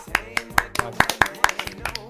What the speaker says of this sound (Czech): malý potlesk pro Radyho.